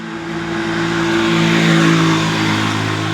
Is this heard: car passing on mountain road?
yes